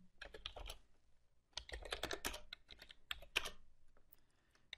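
Someone types on a computer keyboard to open a telnet session to a network switch. Quick bursts of light, close key clicks are separated by short pauses, with no talking.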